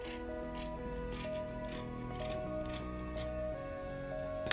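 Scissors snip through a sock just above the ankle while a doll top is made, with a series of quick, regular cuts heard over a steady background of faint music.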